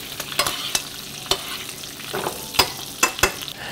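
Salmon frying in olive oil and butter, a steady sizzle punctuated by repeated sharp utensil taps and scrapes against the pan, close and fairly loud.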